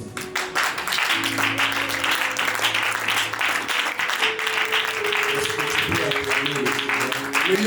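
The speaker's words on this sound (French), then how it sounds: "They have clapped for the prophet Philip." Church congregation clapping for a prophet at a Sunday service, a continuous dense patter of hands with voices and sustained tones sounding underneath.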